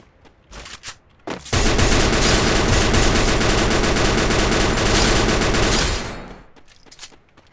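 M60 machine gun firing in a video game: a long, loud, unbroken burst of automatic fire lasting several seconds, preceded by a few short shots and fading into quieter game noise after.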